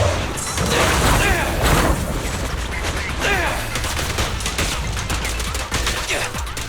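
Rapid gunfire bursts in the Zenless Zone Zero video game, loud dense volleys with crashing impacts and mechanical clatter, close and continuous across the clip, with a voice heard in the mix.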